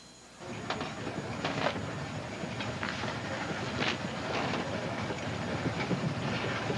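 Steady rumbling of a train rolling along the rails, with faint rhythmic clacks and rattles, fairly quiet and continuous with no talking.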